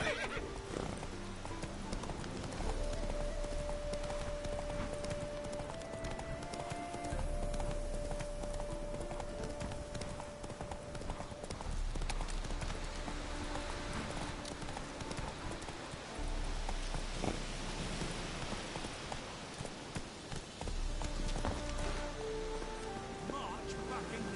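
Roach the horse in The Witcher 3 clip-clops along steadily at a walking pace, hooves sounding close over a continuous bed of rain and game ambience, with an occasional whinny.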